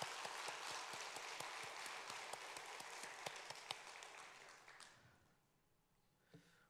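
A church congregation claps together in praise to God, a dense wash of applause with sharp individual claps standing out, fading away after about five seconds to near quiet.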